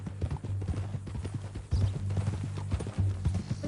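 Horse hooves clip-clop steadily in Red Dead Redemption 2, a close, continuous rhythmic trotting with dull thuds running throughout, with no voices over it.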